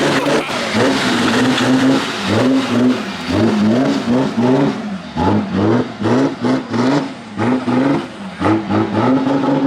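A Mercedes drift car burns its tires at a Drift Masters GP event, its engine revving hard in rapid repeated surges with a loud, close roar.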